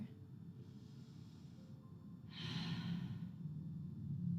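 Slow, deep breaths during a standing prenatal yoga sequence: two soft, airy breaths in a row, the second fuller and louder, over a low room rumble.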